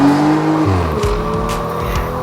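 A Chevrolet Z06 is driven hard, with a loud, close engine roar that sweeps in pitch as the revs climb and shift, along with brief tire noise and no talking.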